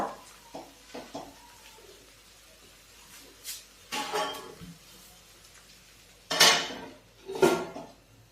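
A metal lid set on a cooking pot of sabudana khichdi, with several sharp clanks and clinks of metal cookware, two louder ones near the end, over a quiet kitchen background.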